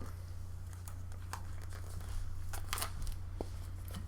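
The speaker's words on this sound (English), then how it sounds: "And then you're just going to gently peel the transfer tape up" Transfer tape peeled slowly off adhesive vinyl applied to a plastic toiletry bottle, giving soft intermittent crinkling and tearing sounds over a steady low hum, fairly quiet and close.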